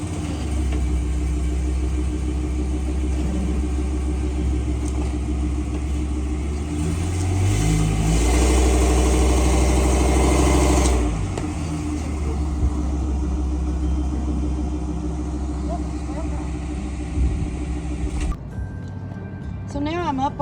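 An RV engine rumbles steadily as the vehicle drives up onto Lynx Leveler blocks, swelling into a louder, deeper surge midway before settling back to a constant idle.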